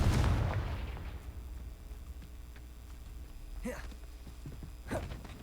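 In the game Hogwarts Legacy, a Confringo spell explodes with a loud boom at the start that fades into rumble, followed later by two shorter bursts, with a voice calling out between them.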